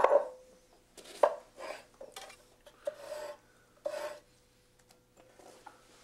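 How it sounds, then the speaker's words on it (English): A lemon rasped on a zester over finely chopped vegetables for a halibut dish, giving several short, close scraping bursts with brief pauses between strokes and no talk. "I'm gonna zest that yellow color right into these veggies"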